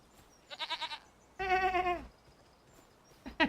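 A person imitates a goat, letting out three short nasal bleating bursts: a quick wavering series, a longer drawn-out bleat, then a final brief one, each near and clear against quiet outdoor background.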